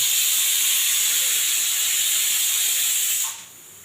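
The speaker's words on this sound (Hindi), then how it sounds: "कुकर बज रहा है।" Pressure cooker steaming green moong in a home kitchen, a loud steady hiss of released steam lasting several seconds before cutting off abruptly, then quiet.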